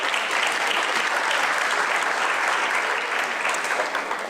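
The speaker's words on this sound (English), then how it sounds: "give yourselves a round of applause for being here this evening" An audience at a campus celebration evening applauds, a full, even wash of many hands clapping, loud and continuous for the whole stretch without pause.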